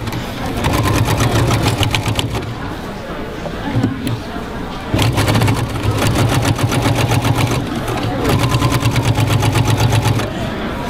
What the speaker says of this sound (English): push it up to the foot, and then you just start sewing